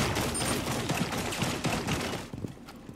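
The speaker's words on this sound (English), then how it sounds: "They're shooting at me?" Rapid gunfire from a firefight in Rainbow Six Extraction, dense bursts of shots crackling steadily for about two seconds before thinning out into scattered reports.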